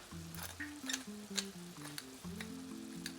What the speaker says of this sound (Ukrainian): Все перемішую ще раз